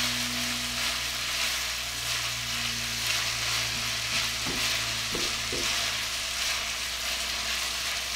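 Sausage frying in a pan gives a steady, close hiss and crackle, with a few brief clicks of a utensil partway through and no talk.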